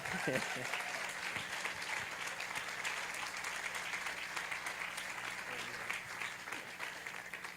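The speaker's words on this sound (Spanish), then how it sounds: "vamos a darle un fuerte aplauso a Kereni" Audience at a church youth gathering applauds steadily for several seconds, a dense, even wash of clapping that holds at a constant level, with a brief voice near the very start.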